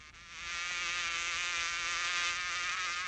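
A cartoon bee from Tennessee Tuxedo buzzes in a steady, continuous drone that swells quickly and holds loud and close for about three seconds, with no talking over it.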